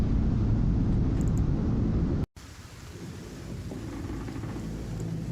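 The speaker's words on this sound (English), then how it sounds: "A little bit of rain is nice." Steady rain hisses as an ambient backdrop with a deep rumble under it, cutting out briefly midway and then resuming more softly, with no voices.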